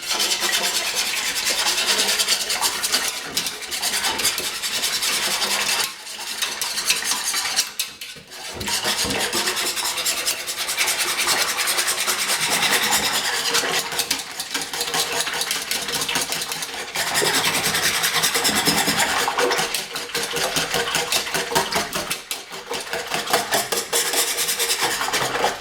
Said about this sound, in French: On va mélanger tout ça.